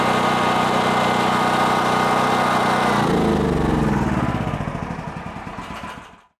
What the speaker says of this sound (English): So what I'll do is start the generator, run it for about 1 minute,